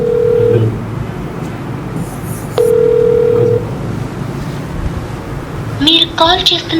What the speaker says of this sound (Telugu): తమ్మిడి శ్రీనివాస్ గారికి మనం ఆన్లైన్ ద్వారా ఫోన్ చేసి లైన్లో తీసుకునే ప్రయత్నం చేస్తున్నాం